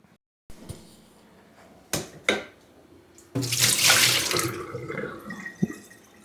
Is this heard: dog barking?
no